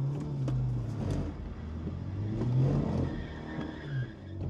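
A car drifting at the end of a straight while attempting a 360 spin, its engine droning and revving steadily throughout with rising and falling pitch and hints of tire noise, fairly close.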